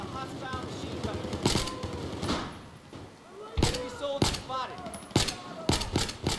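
Suppressed rifle fire in Battlefield 4 Domination mode comes as a string of sharp, clipped shots in irregular bursts. The shots are spread across the moment and mixed with other close in-game battle noises.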